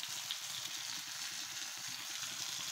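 Washed Malabar spinach leaves hitting a hot pan, a continuous close crackling sizzle with fine spitting texture, steady and moderately quiet with no talking.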